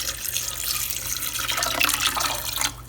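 Tap water runs steadily into a pot of rinsed garbanzo beans for an Instant Pot, a continuous close splashing stream that stops abruptly at the end.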